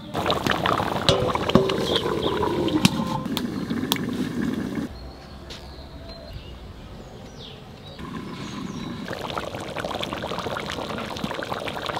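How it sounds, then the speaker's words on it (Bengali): A pot of curry gravy cooked with hilsa fish head boils vigorously over high heat, giving a steady bubbling and sizzling that drops to a quieter simmer midway, then swells again. "এবার ঝেড়ে ঝোলটাকে ফোটাবো, বিশাল জাল দেবো, টকবক করে ফুটুক ঝোলটা"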